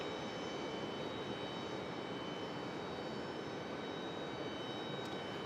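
A Frontier Airbus A321neo jet lands at Raleigh-Durham, its engines a faint, even, distant rumble that holds steady throughout.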